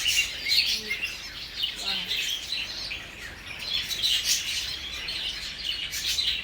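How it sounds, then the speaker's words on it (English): Bengal finches chirp in an aviary at a bird park, small bright tweets repeating irregularly at moderate distance over a soft ambient background. "This is Bengal finch,"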